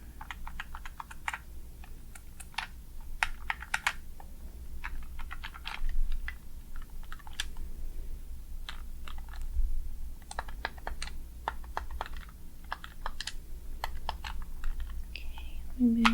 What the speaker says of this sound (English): let me just click all the buttons for you